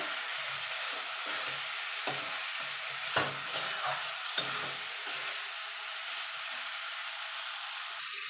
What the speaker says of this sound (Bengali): এবার সিম আর আলুটা যে ভেজে রেখেছিলাম সেটা দিয়ে দেবো। দিয়ে ভালো করে মশলার সঙ্গে কষিয়ে নেব।